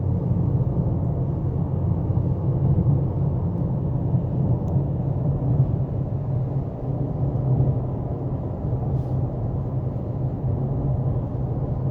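A 2018 Honda Clarity cruising on a highway, heard as a steady low road-and-wind rumble inside the cabin, unbroken and even for the whole stretch with no one speaking.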